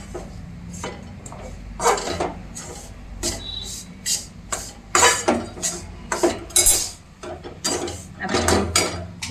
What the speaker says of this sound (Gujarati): આપણે ધીમે ધીમે આવી રીતે લોટને મિક્સ કરી